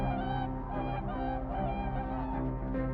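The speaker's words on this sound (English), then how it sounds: "hundreds of whooper swans begin their extraordinary survival journey in one of the most untouched landscapes on Earth" A large flock of whooper swans on Kamchatka's geothermal lakes, honking in a dense, continuous chorus of overlapping calls. The sound is loud and close, with no speech.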